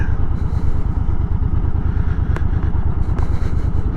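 A motorcycle rides over gravel and sand, its engine running steadily close by with a dense, continuous rumble and gritty crunch throughout, plus a couple of brief sharp clicks.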